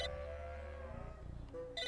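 A telephone rings in the video game Psychonauts, a steady electronic trilling that is clear and alone with no talk over it, breaking off partway before starting again near the end.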